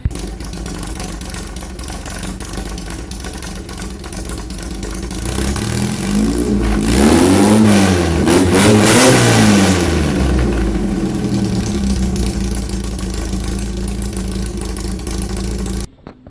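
A VW Beetle engine runs up close, swelling into a few rising and falling revs midway before settling back to a steady idle and cutting off at the end.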